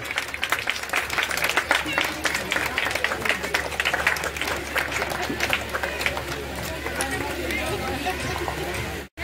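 An audience at a Jan Suraaj political rally in Raghunathpur, Bihar, claps warmly to welcome a guest. Continuous crowd applause blends with voices and murmuring for the full stretch.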